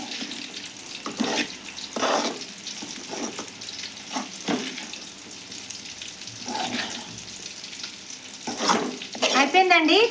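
Okra fry being scraped and stirred out of a pan into a serving bowl in a home kitchen, with scattered scraping and clinking strokes over a soft background hiss, moderately close and without talk.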